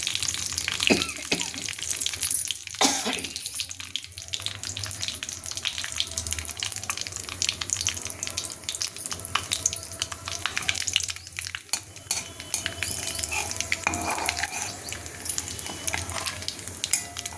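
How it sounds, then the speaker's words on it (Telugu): Mustard seeds splutter and crackle in hot oil in a pan while cooking a potato and fenugreek-leaf curry, with a steady dense sizzle broken by scattered sharp pops, loud and close throughout with no talking. "చూసారా పట్టుపట్లాడుతోంది. ఇప్పుడు సౌండ్ కొంచెం తగ్గింది. ఇప్పుడు అసలు ఆవాలు పేరుతూ ఉంటాయి."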